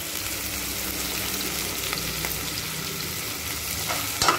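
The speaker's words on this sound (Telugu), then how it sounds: "పసుపు, ఉల్లిగడ్డ ఇవన్నీ మంచిగా ఫ్రై కావాలండి" Onions, ginger-garlic paste and turmeric frying in oil while being stirred, a steady close sizzle with intermittent scraping and a sharp clink near the end.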